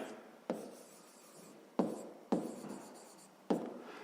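A pen writes on paper, its quiet scratching strokes close and soft, with four sharper taps or marks landing at uneven intervals.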